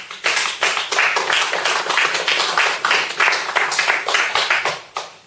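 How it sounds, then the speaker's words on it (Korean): Audience applause welcoming a speaker to a Won Buddhist lecture, a dense, steady wash of many hands clapping for about five seconds, then tapering off at the end with no talking. "박수로 모십니다."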